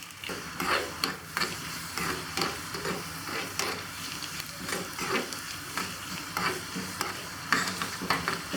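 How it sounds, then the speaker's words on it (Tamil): Onions sizzle steadily in oil in a pan with occasional sharp crackles and spatters, a close, continuous frying sound with no voices. "நல்லா வந்து வெங்காயம் பொரிஞ்சிருச்சு"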